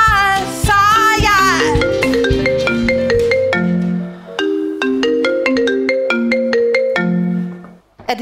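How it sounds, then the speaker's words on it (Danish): A melodic phone ringtone plays loud and continuous, a run of bright synthetic electronic notes repeating in a tuned pattern with no talk, the kind of handset alert that goes off during a revue performance. "Deres telefoner bipper løs, og jeg bliver forstyrret."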